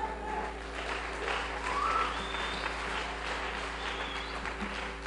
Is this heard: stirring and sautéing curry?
no